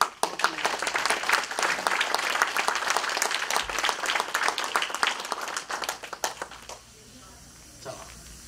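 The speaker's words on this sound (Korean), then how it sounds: "박수로 한번" Lively crowd applause at a lecture event, loud, dense clapping for about six seconds before fading to quiet room tone and a faint final stir of noise.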